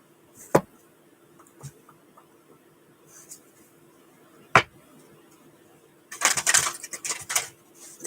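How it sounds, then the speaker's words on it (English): Scattered taps and clacks of oracle cards being handled, then a brief burst of riffling as the cards are shuffled, close and fairly quiet. "That was a terrible shuffle."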